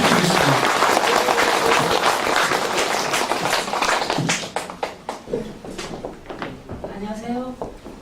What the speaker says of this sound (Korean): 힘찬 박수 다시 한번 부탁드리겠습니다